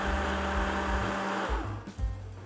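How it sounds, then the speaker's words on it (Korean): A food cutter whirs loudly, chopping cold butter with a little sugar for pâte brisée tart dough for a plum galette, a steady motor drone that dips and lurches near the end as the blade catches the chunks. "자, 커터기로 버터를 먼저 쪼개주세요."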